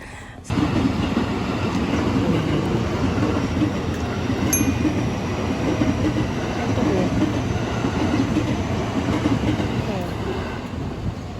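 Train in Japan rolling in at a station: a continuous loud rumble of wheels and carriages with a brief high squeal, steady throughout at close range.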